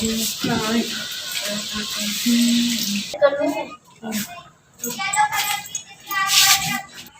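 Water pours and splashes into plant pots on a balcony, a running hiss that starts and stops in bursts while people talk over it.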